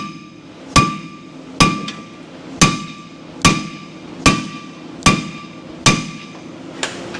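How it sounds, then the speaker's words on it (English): A hammer strikes a brake rotor eight times to break off its studs, each blow a sharp, loud metallic clang with a short ringing decay, spaced at an even, deliberate pace close by. "so I'm gonna bash this with a hammer, and hopefully it'll want to break these"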